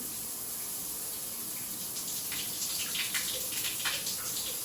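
Water runs steadily from a turned-on shower faucet during a leaky-faucet repair, a continuous hiss of spray with small splashy bursts growing slightly louder toward the end, heard alone without talk.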